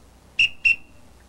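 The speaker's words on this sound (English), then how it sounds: "when I blow the whistle" Two short, shrill blasts on a whistle in quick succession, loud and close with a brief ringing tail and nothing else around it.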